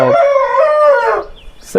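A rooster crows once, loud and close, in a long drawn-out call that fades near the end, on a rooftop farm where native chickens are raised.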